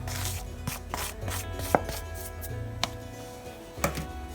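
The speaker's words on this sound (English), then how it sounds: "So I'll just mix them together until they are well incorporated" Baking powder and Oreo cocoa powder mixed in a bowl, heard as a few sharp knocks and taps of a utensil against the bowl over a quiet background, close and distinct.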